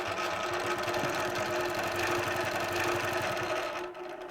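A longarm quilting machine stitches along a template across a quilt top, giving a steady, fast mechanical whir with a rapid needle rhythm that runs loud and unbroken before easing off at the very end.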